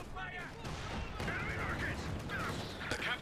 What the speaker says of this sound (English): Oh, enemy rockets connecting.